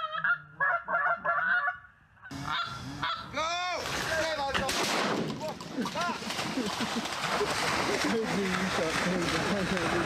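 Geese honk in a loud, overlapping chorus of many calls, close by and continuing throughout, with a few isolated honks before the flock noise swells; people talk under the racket.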